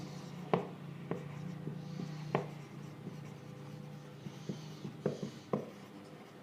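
A teacher writes on a board during a classroom general-knowledge lesson: quiet scratching strokes punctuated by sharp taps, spaced irregularly, close and alone without talk.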